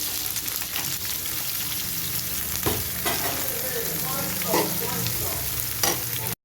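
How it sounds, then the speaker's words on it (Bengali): Chopped onion and garlic fry in hot oil with a loud, continuous sizzle close up, punctuated by several sharp stirring scrapes. "ভাজা হয়ে গিয়েছে, দিয়ে দিচ্ছি পেঁয়াজ কুচি।"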